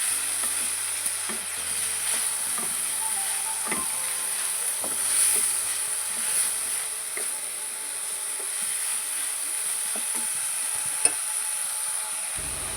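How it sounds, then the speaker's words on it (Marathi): Snake gourd pieces stirred in a hot frying pan, a steady sizzle with intermittent scraping and clacking of the spoon against the pan, continuous and close with no talking. "पडवळ्याचे तुकडे घातल्यानंतर मस्त हलवून घेत आहे"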